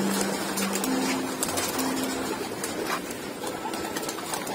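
Racing pigeons coo and flutter close by in short repeated calls over a busy, noisy background, with a faint voice occasionally present.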